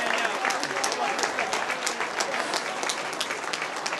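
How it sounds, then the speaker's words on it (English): A crowd at an MMA event applauds the fighters after three rounds, with dense, continuous clapping and cheering that stays loud and even throughout. "how about a nice round of applause once again for George Lischke and Justin Kristie."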